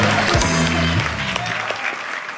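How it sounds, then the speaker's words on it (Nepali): Audience at a Nepali comedy club show applauding the tabla player, bright steady clapping from a crowd, with a short tabla flourish ringing at the start before the applause carries on alone. "हाम्रो तबला भाइलाई पनि जोरदारसँग ताली बजाउनुहोस्"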